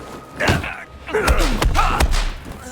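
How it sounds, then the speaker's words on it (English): Several heavy, punchy thuds of fistfight punches in a video game land in quick succession, each a low impact hit, with a brief breathy grunt near the start. "They really nailed the sound effect when you're fighting people"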